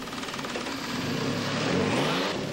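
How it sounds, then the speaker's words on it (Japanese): A fueled Toyota car engine runs during its final factory check and adjustment, giving a loud, steady close-up roar that swells slightly as it revs, with no voices. "最後にエンジンに燃料を入れ確認と調整を行います。"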